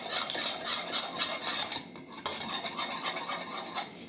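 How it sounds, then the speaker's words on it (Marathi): Yogurt being whisked in a bowl for a sweet-spicy chutney, a steady scraping, clinking rhythm of utensil against the bowl, close and continuous with no talking. "हे दही थोडंसं फेटून घ्यायचं."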